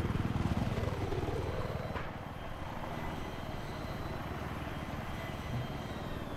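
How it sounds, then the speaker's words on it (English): Helicopter in the Global Conflict video game, a steady rotor and engine drone that holds throughout at moderate level, slightly louder at the start, with no voices over it. "The heli's up, he's up."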